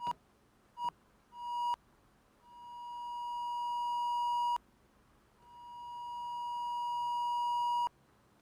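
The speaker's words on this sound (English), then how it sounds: "The only thing we're going to hear is the synth ramp up to full volume" Sine-like synth tone from Ableton Operator, first in short blips, then swelling slowly to full volume on a long attack before cutting off, repeated twice, clean and steady with no talk.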